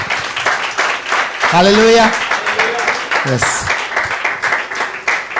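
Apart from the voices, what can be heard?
congregation applauding loudly in church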